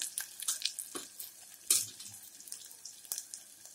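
Mustard seeds crackle and sizzle in hot oil over a lowered gas flame, giving soft, faint scattered pops and bursts of fizz close by, with no talking.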